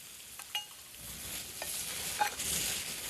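Onion and ginger-garlic-chili paste frying in a pan for Rajasthani gatte sabzi, with a steady soft sizzle and a few faint stirring scrapes, fairly quiet and with no talking.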